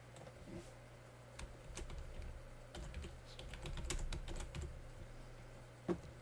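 Typing on a computer keyboard as a file is renamed, a steady run of close key clicks over a low constant hum, ending in one sharper keystroke.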